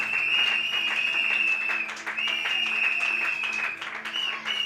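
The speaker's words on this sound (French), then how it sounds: "je vous prie de vous lever et les acclamer" A church congregation applauds at a reverend's ordination service at Église Nouvelle Alliance, with steady, dense clapping that runs the whole time under a sustained high tone.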